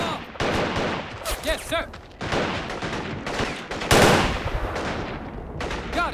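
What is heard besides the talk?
gunfire from the video game Men of War Assault Squad 2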